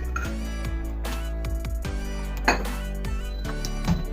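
Raw tamarind pulihora rice being mixed in a metal vessel, a spoon scraping and clinking against the sides in short repeated strokes, close and fairly quiet, with no talk.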